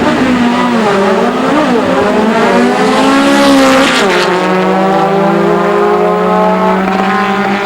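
Volkswagen Beetles race at Great Lakes Dragaway in Union Grove, Wisconsin, during Bugfest 1993, their loud air-cooled engines revving and shifting in pitch as they roar down the strip, with a sharp mechanical burst midway and a constant heavy drone.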